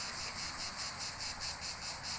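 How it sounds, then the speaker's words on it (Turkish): Dense, shrill cicada chirring fills the air in a hazelnut orchard, pulsing in a steady rhythm without pause, loud and continuous with no voices. "Ağustos böcekleri cır cır cır cır cır cır"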